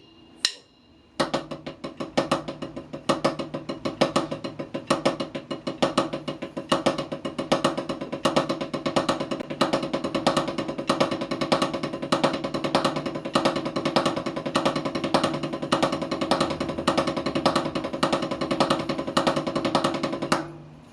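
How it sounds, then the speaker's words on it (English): Double paradiddle drum rudiment with accents on the first and second notes, played as a fast, even stream of sharp strokes with a regular accented pulse, close and loud for about twenty seconds after an opening hit. "So number two, we have the accent on the first and the second note of the double paradiddle."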